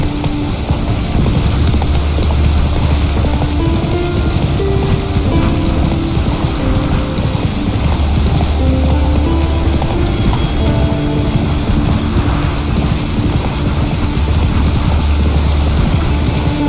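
Hooves of Roach, the horse in The Witcher 3 video game, clip-clop in a steady galloping rhythm throughout, loud and continuous over a low, droning music bed, with no talk.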